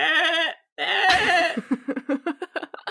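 A goat bleats in the soundtrack of the film Valhalla Rising: one long, loud, wavering cry, a short gap, then a strained call that breaks into a run of quick, stuttering bleats. No one speaks.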